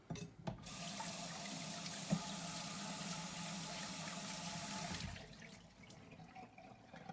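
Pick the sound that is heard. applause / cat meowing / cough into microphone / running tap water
running tap water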